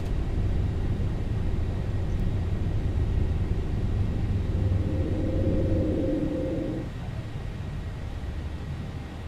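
A Zibo Boeing 737 in the X-Plane 12 flight simulator takes off and climbs on a FlyDubai desert route, giving a steady low jet rumble with a constant roar that eases slightly near the end.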